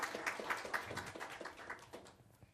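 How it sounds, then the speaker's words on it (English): A conference audience applauds a speaker at a Nagios event, giving a brief, faint round of clapping with scattered claps that thin out and fade toward the end. "give him a nice round of applause"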